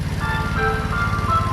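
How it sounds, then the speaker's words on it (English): A truck idles and rumbles in the street below in Bacalar, Mexico, a steady low engine drone with thin tonal whines over it, carrying on without a break and with no voices. "There's some kind of truck down there making noise"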